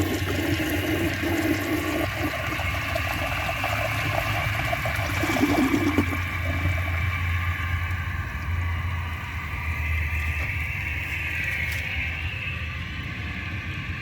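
A 1988 Kilgore Apex toilet flushing a grocery bag, a steady rushing gurgle of water draining and refilling the bowl, close and continuous for the whole stretch with no talk.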